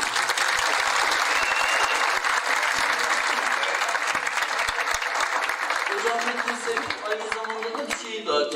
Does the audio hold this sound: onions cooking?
no